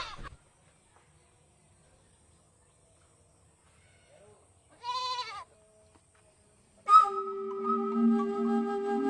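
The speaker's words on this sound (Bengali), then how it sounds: "আমার ছাগলটা নিয়ে চলে যা।" A goat gives a single wavering bleat at middle distance after near silence, followed by a louder sustained tonal sound.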